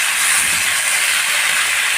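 Tomatoes frying in a pan for a spicy chutney give off a steady, loud, close hiss of sizzling oil with no talking.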